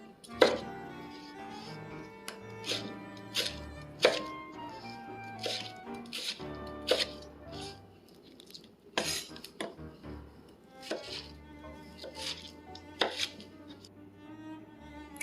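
A knife dices a tomato on a cutting board for avocado salad, giving sharp, irregular chopping knocks in quick bursts with short pauses between them.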